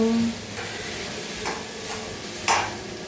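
Tempered khichdi cooking in a pan at home, with a few scraping stirs of a spoon over a faint sizzle and a sharper metallic clatter near the end.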